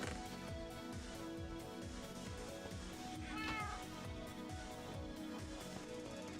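A cat in the Minecraft video game gives a short, faint meow over busy, rhythmic game sounds and background music.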